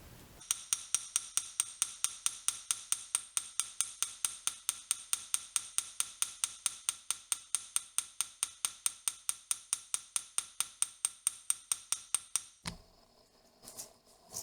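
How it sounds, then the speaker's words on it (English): A raw silk texturing hammer strikes metal jewelry in rapid, steady metallic taps, dozens of close, bright clinks in an even rhythm that stop abruptly near the end. "here's a specialty hammer called raw silk hammer"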